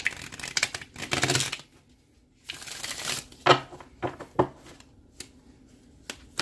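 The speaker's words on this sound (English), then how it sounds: "I think I'll just go ahead and shuffle this one more time." Tarot cards are shuffled in papery, riffling bursts, followed by lighter taps and flicks as the deck is squared up. No one speaks.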